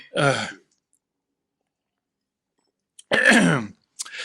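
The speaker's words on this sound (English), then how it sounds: "Let me clear my throat." A man clears his throat twice at close range during a sit-down interview, two short raspy bursts separated by about three seconds of silence, with a faint trailing vocal sound at the end.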